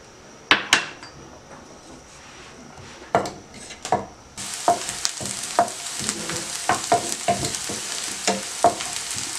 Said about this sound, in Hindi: हल्की सी देखिए प्याज को फ्राई कर लिया है